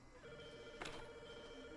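A telephone rings in the survival video game Rust, a faint steady electronic tone over low background noise with one brief bright burst partway through.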